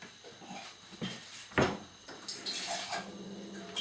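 About 100 ml of water splashes and pours into a pan while making fish cutlets, with a sharp clatter partway through, running steadily at close range with no voices.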